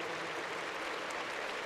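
Dense, distant clapping from baseball fans filling a Dragons stadium at a postgame hero interview, a steady wash of applause with no cheering.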